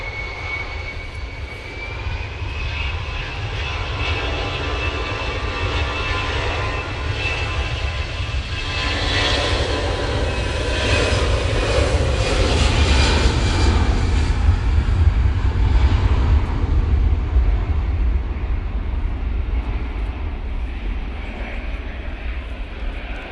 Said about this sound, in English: Nice rotation there from that EasyJet.